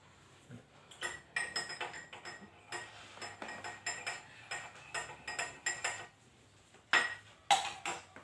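A metal spoon clinks rapidly against a glass while vinegar is stirred into water in a school chemistry experiment, a quick series of close, light taps with a couple of sharper knocks near the end.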